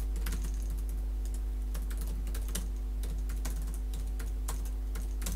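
Typing on a computer keyboard, with quick irregular key clicks close by over a steady low electrical hum and no talk.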